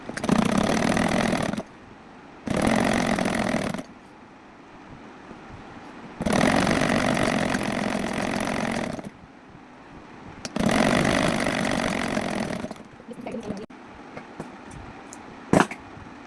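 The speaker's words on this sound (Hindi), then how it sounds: "ऐसे ही हमें अब दूसरी साइड सिलाई लगानी है" A sewing machine stitches the side seam of a small child's frock in four loud, close bursts of rapid mechanical whirring, separated by quiet pauses, with faint handling clicks near the end.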